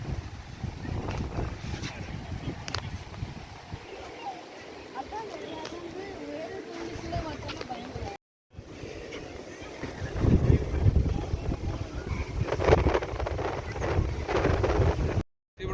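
Gusty wind buffets the microphone during an open boat ride, a steady low roar with rising blasts and two brief dropouts, while voices talk faintly underneath.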